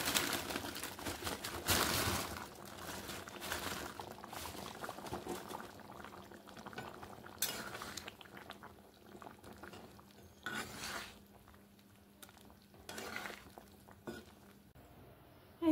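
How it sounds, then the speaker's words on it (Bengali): Fried chicken pakoras drop into a simmering chili chicken sauce, a steady bubbling sizzle with soft wet stirs and clatters, loud at first and easing off, no voices. "এখন পকোড়াটা দিয়ে দেব।"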